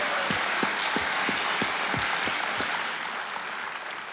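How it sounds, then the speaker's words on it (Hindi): A studio audience on Kaun Banega Crorepati Season 12 bursts into dense, sustained applause, with a few louder rhythmic claps standing out near the front before it gradually thins and fades. "तालियों के साथ हम आपका अभिनंदन करते हैं"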